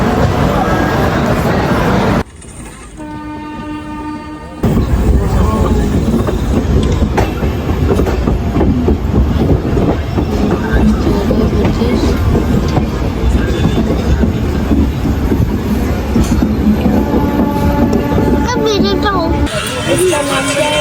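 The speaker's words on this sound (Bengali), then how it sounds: "এখন আমাদের ট্রেন ঢুকছে আমরা ট্রেনে উঠবো" Loud rumbling of a train rolling along rails with rhythmic clatter and occasional squeals, continuing for a long stretch as people talk under it.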